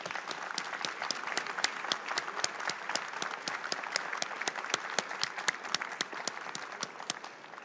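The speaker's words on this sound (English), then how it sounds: "we want to have a huge round of applause to all our great" Audience applause for the speakers at a business conference panel event, a dense, steady crowd clapping that holds evenly throughout without fading, with no talk over it.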